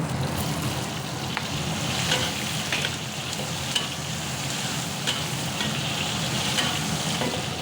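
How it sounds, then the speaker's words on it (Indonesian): Garlic, spices, large chilies and lime leaves stir-frying in a pan for Madiun pecel seasoning: a steady, close sizzle and crackle throughout, with occasional scrapes and clicks of stirring and no talking. "kita tumis sampai sedikit layu untuk cabai besarnya, daun jeruk"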